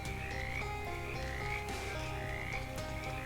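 Frogs croak steadily in a dense, continuous chorus in the Shadows over Loathing video game, moderately loud with no speech.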